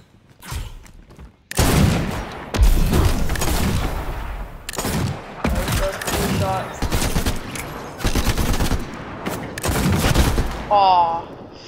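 Bursts of loud, sharp gunfire in the video game Fortnite, rapid shots clustered in volleys with brief gaps, close and punchy.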